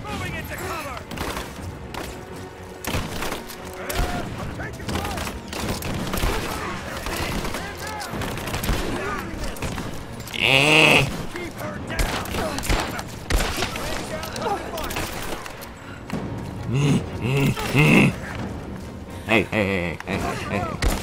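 Gunfire from a firefight in Rise of the Tomb Raider, loud repeated shots and bursts mixed with game sound effects and music across the clip, while a player talks over it.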